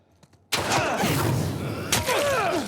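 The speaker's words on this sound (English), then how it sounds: "Some gunshots." Gunfire erupts in the video game No Return: a sudden loud burst after near silence, sustained rapid shots with a second blast and ringing debris toward the end, close and dense.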